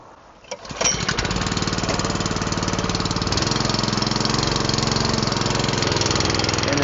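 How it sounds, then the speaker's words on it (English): The gas engine on a 300-gallon tool box style sprayer unit cranks, catches after about a second, and settles into a loud, steady, chugging idle up close. "We're going to go ahead and fire up the unit."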